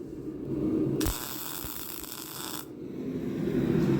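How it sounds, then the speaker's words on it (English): A four-piece steel billet is welded for a keyhole integral knife: a single harsh, hissing electric buzz lasts about one and a half seconds over a low room hum, then cuts off. "So let's weld that sucker up."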